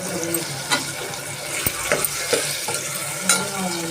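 Mutton fries in a pan with a steady close sizzle, punctuated by several sharp clinks and scrapes of a spoon stirring the meat.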